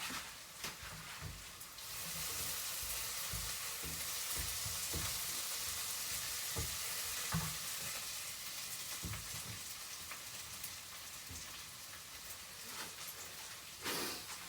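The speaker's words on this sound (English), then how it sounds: "I'm going to give the onions a stir." Onions frying in a pot for a chicken and drumstick curry, with a steady sizzle and intermittent scraping stirs throughout, close and fairly faint.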